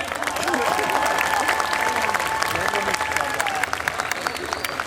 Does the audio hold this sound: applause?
yes